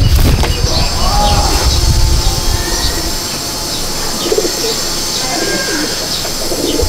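In a pigeon loft, birds flap their wings in a loud flurry at first, then coo softly in short bursts against a steady background hiss.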